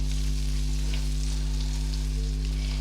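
Ingredients for butter chicken sauté in a pan with a continuous moderate sizzle and occasional crackles, over a loud steady low hum such as a kitchen fan; nobody talks.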